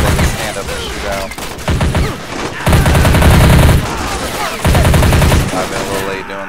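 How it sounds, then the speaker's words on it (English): Rapid gunfire from soldiers in the video game Strateejik Battles during a North Korea and China attack on a US airbase, loud overlapping bursts and volleys, with someone talking over the shooting. "Now they can stand up and shoot out."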